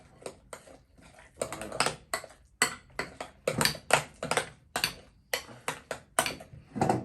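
Fruit fly culture medium is stirred and mixed in a container, giving a run of irregular scraping and clinking strokes, close and bursty with short pauses between, and a single brief spoken word in the middle.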